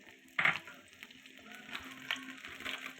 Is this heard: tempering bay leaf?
yes